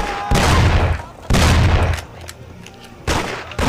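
Three heavy shotgun blasts in the crime game Mafia, each a loud, booming shot with a long rumbling tail, spaced about a second or two apart and close by.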